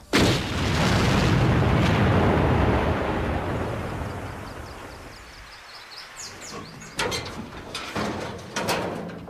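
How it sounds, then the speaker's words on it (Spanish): A test charge detonates against an armored vehicle, one loud close boom that rolls and decays over several seconds, then sharp metallic clanks and bangs of debris. "Hoy compara los efectos de una explosión sobre vehículos con diferentes niveles de protección"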